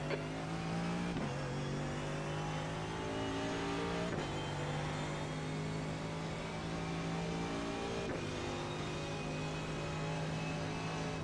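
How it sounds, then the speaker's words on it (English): A faster race car in a racing video game approaches with a steady, loud engine drone whose pitch climbs and resets during gear changes, continuous for about eleven seconds with no talk. "There's a faster car approaching."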